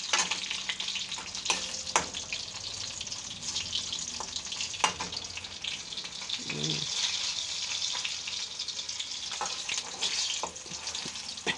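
Garlic frying in a pan while cooking papaya dappalam: a steady, close, crackling sizzle with a few sharp clicks and scrapes of stirring, and no talk.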